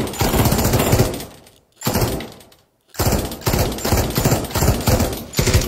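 Loud WW2-era rifle fire in the VR shooter Pavlov VR, with dense, rapid shots packed into sustained bursts, separated by two brief pauses, close and harsh with no speech.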